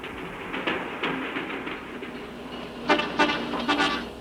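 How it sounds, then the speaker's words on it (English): A descending train passes in the high Andes at Pampa de Arrieros, heard at a distance: a low rumble with faint rail clatter, then a run of sharper metallic clanks toward the end. "the caravan pauses to let the descending train pass."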